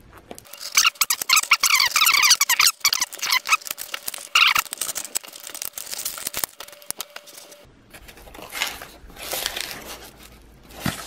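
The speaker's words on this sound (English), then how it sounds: "let's crack this open, and let's see how I did on this one" A plastic PSA graded card slab is cracked open by hand for 1986 Fleer basketball cards, giving close, loud crackling, squeaking and snapping plastic sounds, then quieter rustling of cardboard, with no talk.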